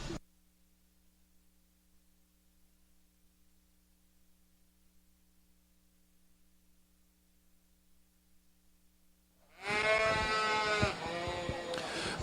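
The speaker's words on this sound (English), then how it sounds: "Real good set of Hampshire ewes we had today" Hampshire ewes bleat at a junior livestock show, a burst of several overlapping loud calls arriving suddenly after a long near-silent stretch with faint steady hum.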